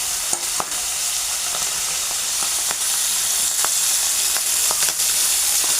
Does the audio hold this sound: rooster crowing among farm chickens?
no